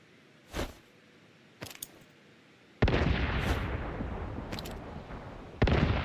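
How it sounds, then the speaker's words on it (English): Grenade blasts in the video game Once Human, a couple of dull booms followed by a loud sustained roar of explosion and gunfire, with another sharp blast near the end, no talk. "neither of those grenades connected"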